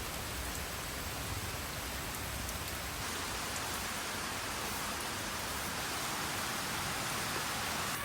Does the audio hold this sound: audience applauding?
no